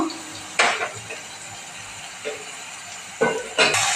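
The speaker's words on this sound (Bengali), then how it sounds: "মশলাটাকে নাড়াচাড়া দিয়ে নেব।" Spoon scraping through a spice masala of green chilli paste, turmeric, salt and Kashmiri red chilli powder in a pan, in four sharp bursts spaced unevenly over a quiet background hiss.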